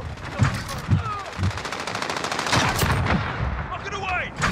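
Rapid automatic gunfire in Call of Duty: Modern Warfare, dense bursts of shots over a hardpoint match, with game voice lines and effects layered in between.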